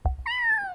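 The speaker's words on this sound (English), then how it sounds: "Kittens." A kitten gives a single short, clear meow, with a soft thump just before it, heard on its own with no talk over it in a cartoon setting.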